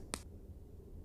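A single short, sharp click rings out once against a faint low background hum, then fades quickly.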